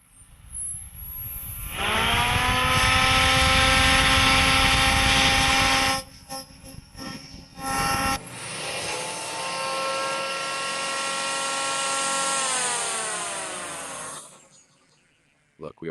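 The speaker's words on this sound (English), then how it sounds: "The drill's rotation doesn't make much noise." An electric drill spins an industrial siren rotor: a loud, steady mechanical whine with rising pitch spins up and holds, briefly drops out, then resumes and winds down; motorized rotor noise throughout.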